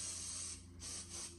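Large can of Lysol disinfectant spray releasing two close bursts of loud, steady aerosol hiss with a brief dip between them, heard alone.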